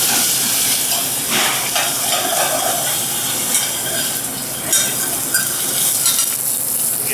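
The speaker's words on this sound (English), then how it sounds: "Caramelize those bones in that butter really, really, really strongly." Cornish hen bones caramelizing in plenty of hot butter, giving a loud, steady frying hiss with crackling spatters throughout, close up and with no voices.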